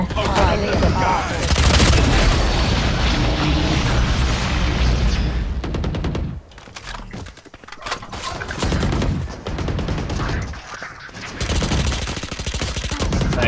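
Dense rapid rifle fire from the Phantom in the tactical shooter Valorant, loud and sustained through the first half, then broken into shorter bursts with brief pauses, mixed with game effects.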